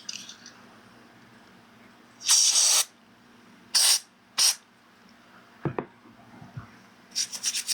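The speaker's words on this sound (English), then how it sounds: "we'll clean out our slot with some contact cleaner" A can of contact cleaner sprays into the cartridge slot of a Game Boy Advance SP, one long hiss followed by two shorter bursts and a cluster of quick final spurts, close and loud over a faint hum with small handling clicks.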